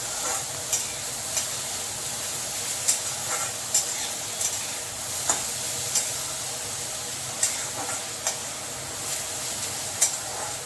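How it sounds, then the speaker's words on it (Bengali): Cauliflower and green chillies are stirred in a hot pan, with a soft steady sizzle under a series of light spatula scrapes and taps spaced every second or so. "ফুলকপিটাকে দিয়ে ওখানে কাঁচা লঙ্কাও দিয়ে দিলাম। একটুখানি নেড়ে চেড়ে নেবো।"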